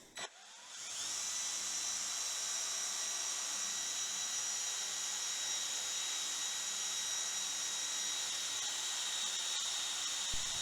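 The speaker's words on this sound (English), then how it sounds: "put it center, and drill a hole all the way through." A power drill with a 3/8 bit spins up quickly and bores a hole, holding a steady, high, whining motor tone for roughly ten seconds without pause or any speech.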